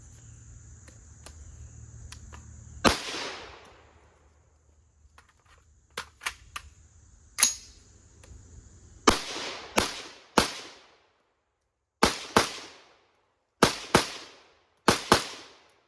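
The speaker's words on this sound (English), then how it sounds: "now we're shooting the 16-inch 300 Blackout rifle with the pistol length gas system." Gunshots from a 16-inch 300 Blackout AR rifle with a pistol-length gas system, fired outdoors. Loud, sharp reports come singly and in spaced pairs, each with a short decaying echo, over faint insect chirping.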